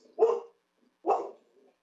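A dog barks twice, two loud, close single barks about a second apart with silence between, no talk over them.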